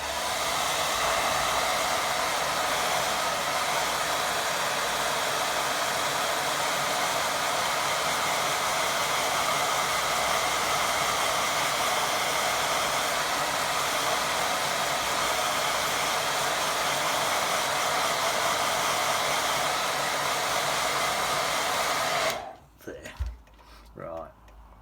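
A hair dryer blows steadily on a watercolour painting of a boat going out to sea, a loud continuous whooshing roar close by for over twenty seconds before it switches off, followed by faint handling noises.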